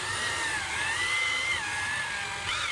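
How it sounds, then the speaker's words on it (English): A spinning drill brush attachment on a corded drill scrubs sandy car carpet, giving a steady high-pitched motor whine with a slight shift in pitch near the end, loud and close with no talk. "the drill brush attachment on a corded drill"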